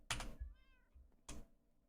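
Minecraft cats meow in a storage room, a drawn-out tonal meow between two sharp clicks or taps, fairly quiet and close with no talking.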